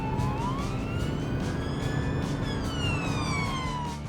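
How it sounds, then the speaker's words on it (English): A police car siren wails in rising and falling sweeps over steady traffic rumble, moderately distant and continuous, with no talking. "The sirens and flashing lights are used to help cars all around see and hear the police coming."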